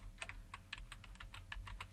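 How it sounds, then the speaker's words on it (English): Quick, light keystrokes on a computer keyboard, a faint, uneven patter of clicks heard close up and alone, without speech. "At this point, we can just start typing."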